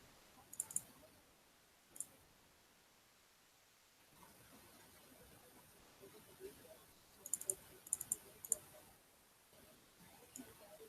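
A computer mouse gives quiet, sharp clicks in small clusters, single and double taps scattered over a faint room hush, recorded close but at low level.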